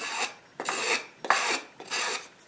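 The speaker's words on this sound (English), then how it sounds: "Now we're taking heavier shavings." A Stanley 12-404 hand plane cuts wood shavings in four steady rasping strokes, each roughly half a second long with brief gaps between, close and fairly loud with no voices.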